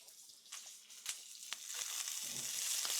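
Green beans sizzle steadily in a hot pan, with a spatula tapping and scraping now and then as they are stirred; the frying hiss builds and grows louder toward the end, with no talking.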